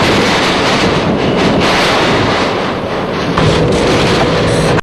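Typhoon wind and heavy rain roar as a loud, unbroken wash of noise with buffeting gusts striking the microphone, steady for the whole stretch with no voices.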